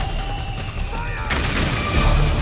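Gunfire in the video game Metal Gear Solid 4: Guns of the Patriots, a dense rolling fusillade of shots and booms that swells louder toward the end, with a voice shouting over it.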